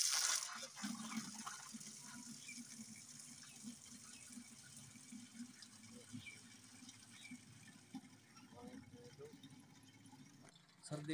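Water pours and splashes as a container is filled outdoors on a cold, foggy winter day, a soft, low-level trickle and gush that runs throughout, with faint background voices and small clatters.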